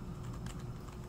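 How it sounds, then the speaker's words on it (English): Continuous keystrokes on a computer keyboard as a command is entered into a terminal on a NUC mini PC, quiet, steady and close, with no voices. "So I'm going to type sudo for my super user, apt or apt"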